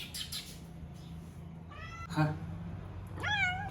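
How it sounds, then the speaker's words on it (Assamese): Several cats meow while being fed fish roe in a village home, a few distinct rising calls spread across the moment, moderately close over quiet background hum. "তো মেকুৰীকেইটাক অলপমান দি দিওঁ ইয়াতে"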